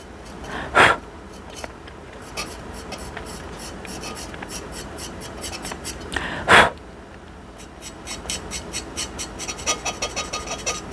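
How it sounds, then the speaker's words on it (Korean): Paint is scraped off a ceramic piece with a tool during hand painting, giving faint, close scratchy strokes, with two louder sharp rasps and a quick run of short scrapes near the end. "좀 밝은 부분들을 이런 식으로 물감을 긁어 주시면서 라인도 살리고"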